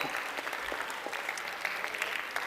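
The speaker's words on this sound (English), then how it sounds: "give him a round of applause for helping out" An audience at a lecture on scams, Sasquatch and the supernatural applauds a volunteer, giving steady, moderately faint clapping that continues throughout.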